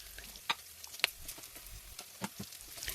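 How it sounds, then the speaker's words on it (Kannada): Onion, green chilli and curry leaves fry in oil for cabbage palya, giving a faint, steady sizzle broken by a few sharp crackles and pops. "ಸೊ ಎಲ್ಲನೂ ಹಾಕಿ ಎಣ್ಣೆಯಲ್ಲಿ ಚೆನ್ನಾಗಿ ಫ್ರೈ ಮಾಡ್ಕೊಂಡಿದ್ದೇನೆ"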